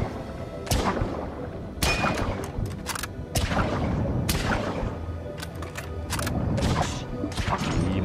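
Spear shots fired at fish in the Yakuza 6 spearfishing game, a series of sharp irregular bangs and thwacks over busy underwater game noise.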